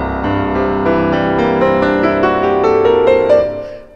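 A piano sounds a C with its overtone series, sustained rich harmonic tones ringing steadily for about three seconds before decaying, played alone.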